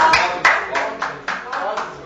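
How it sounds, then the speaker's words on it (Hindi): Applause at a Diwali poetry gathering comes as a short run of evenly spaced, rhythmic claps, close and fairly loud, with voices talking over it. "एक बार जोरदार तालियों के साथ धन्यवाद।"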